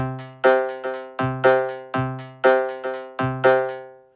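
Bright, pitched resonant plucks repeat in a steady loop through a fully wet Ableton Resonators effect, each struck note ringing with metallic overtones and decaying quickly before the next hit, no voices.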